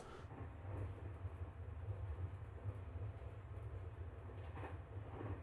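A train runs in the video game OMORI, giving a steady, continuous low rumble with a faint rhythmic rolling pulse throughout and no voices.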